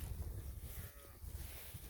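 Cattle low faintly from a distance on open rangeland, under a steady hum of wind and background noise.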